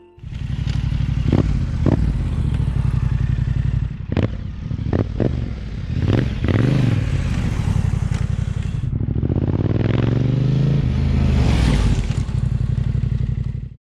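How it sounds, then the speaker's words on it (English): A Yamaha Tenere 700 fitted with an aftermarket exhaust rumbles loudly past at close range at idle, with a few sharp throttle blips that rise and fall, heard alone. "Now let's pass by up close with a couple blips at idle."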